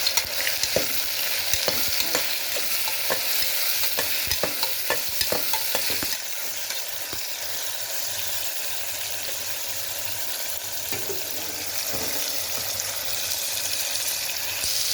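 Brinjal and urad dal vadiyalu fry in hot oil with a steady, close hiss. Sharp clicks and pops come thickly in the first six seconds, then settle into a softer, even sizzle with occasional crackles.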